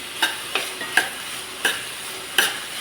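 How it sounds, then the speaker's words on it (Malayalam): Chopped ivy gourd is sautéed in a pan, with about five distinct sharp stirring scrapes spaced irregularly over a low, steady sizzle, close and clear with no talking. "ഇനി നമുക്ക് അരിഞ്ഞു വെച്ചിരിക്കുന്ന കോവയ്ക്ക് ഇട്ട് കൊടുത്ത് നന്നായിട്ടൊന്ന് വഴറ്റാം"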